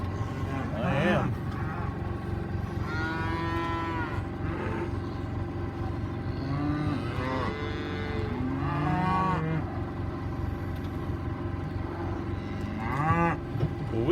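Cattle on a farm, cows and calves, moo several times at moderate distance over a steady low engine hum, with a person speaking at times.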